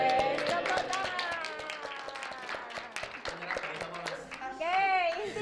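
Students in a classroom clap their hands together in a dense, steady burst of applause, with a voice and chatter rising over the clapping near the end.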